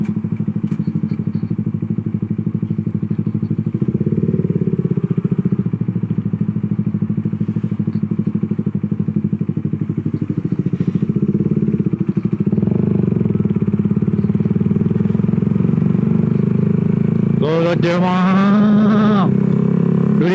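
A Suzuki GSX motorcycle with a very loud exhaust rumbles steadily and close, a deep continuous drone that swells slightly in revs, with a brief burst of higher-pitched sound near the end.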